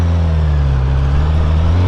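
A Honda CBR 1000 RR motorcycle with a manual shifter hums steadily while riding, a loud, close, even engine drone with no gear change in this short stretch.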